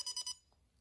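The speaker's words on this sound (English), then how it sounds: "It says that a little paw has touched it one time, and it makes a beeping sound" A PetSafe ScatMat indoor training mat gives three quick, evenly spaced high electronic beeps, then falls quiet.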